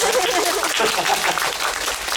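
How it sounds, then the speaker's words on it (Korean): An audience at a stage greeting for the film Stone gives a round of applause, a steady wash of clapping that carries on evenly throughout at moderate loudness. "여러분 하나만 박수 한번 주세요"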